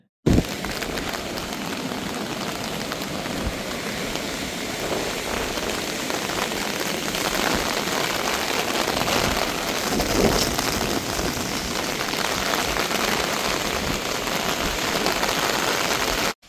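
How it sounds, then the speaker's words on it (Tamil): Heavy rain pouring down on a city street in Colombo, Sri Lanka, a loud dense unbroken hiss and patter that holds steady throughout, with no one speaking. "இப்ப பேர் இறைச்சலோட மழை வந்துட்டுது"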